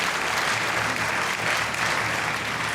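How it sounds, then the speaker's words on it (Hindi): Studio audience applause on a Pakistani comedy talk show, a steady dense wash of clapping held at even loudness throughout, with no distinct slow rhythmic beats standing out. "वाह, उन्होंने यूं बजा रहे हैं स्लो क्लैप।"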